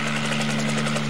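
A cartoon helicopter arrives with a steady, close, pulsing rotor chop over a low engine hum, loud and unbroken for the whole short moment.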